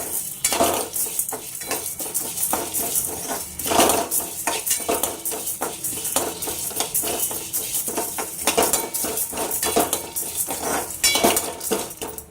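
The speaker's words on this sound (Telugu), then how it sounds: "ఇప్పుడు వీటిని గోల్డెన్ కలర్లోకి వచ్చేదాకా మనం అయితే వేగించుకోవాలి." Ridge gourd pickle ingredients with peanuts being fried in a pan until golden, with steady metallic scraping and stirring of a utensil against the pan over a faint sizzle, close and continuous.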